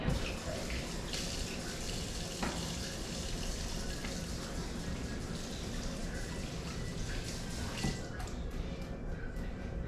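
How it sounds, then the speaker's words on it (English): A kitchen tap runs a steady, soft stream of water during hand washing while smoked meatloaf is being prepared, faint and continuous until it shuts off near the end. "Wash my hands real quick."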